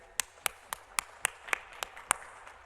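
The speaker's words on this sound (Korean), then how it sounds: "이 시간 하나님께 감사의 박수를 올려드립니다." About eight sharp, evenly spaced claps ring out in a church prayer-retreat service, fairly faint and sparse against a quiet room, with no talking.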